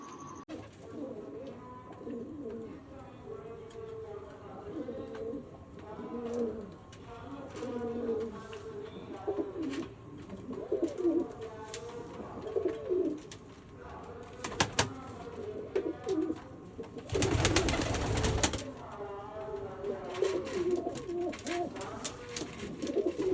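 Pigeons coo repeatedly in soft, rolling calls close by, with a brief burst of broadband noise partway through.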